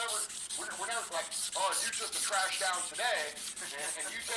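A knife blade is worked by hand with a Scotch-Brite pad, giving a steady, close rubbing scrape in repeated back-and-forth strokes, loud and continuous throughout.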